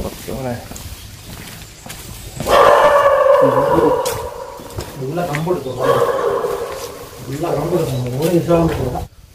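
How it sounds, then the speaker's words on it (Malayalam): A dog barks loudly nearby in short bursts, mixed with voices talking. "ഞങ്ങൾ മേളിലോട്ട് കയറിയപ്പോഴത്തേക്ക് ഭയങ്കരമായിട്ട് പട്ടിയുടെ പോരാ"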